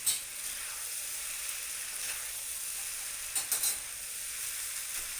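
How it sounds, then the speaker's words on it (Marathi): A spoon stirs noodles in a pan over a gas flame, under a steady close sizzle with a few short scraping clinks near the middle. "ह्या चमच्याला असं करून हलवून घ्यायचं"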